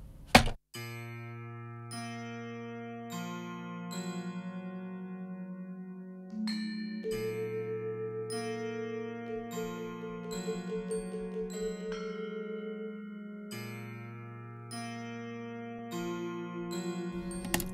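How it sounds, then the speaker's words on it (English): A plucked kantele plays a tribal game music theme, with clear ringing plucked notes over sustained low tones in a repeating melodic pattern, close and clean, with no voices throughout. "So that's the whole basic theme of the cantela."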